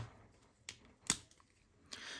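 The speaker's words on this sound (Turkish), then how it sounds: "Hemen paketini açalım." Plastic packaging of a set of mini pens being opened: a few sharp, isolated clicks and snaps with a crinkling rustle near the end, close up and fairly quiet over a near-silent background.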